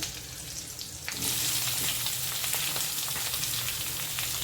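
Potatoes drop into hot oil in a pan with cumin, green chillies and curry leaves. A soft sizzle jumps to a loud, steady, crackling fry that carries on close up with no talking.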